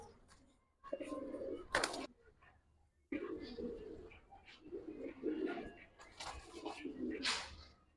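Giribaz pigeons on a rooftop coo in soft, throaty bursts, several in sequence and close by, with brief wing or handling noises between them.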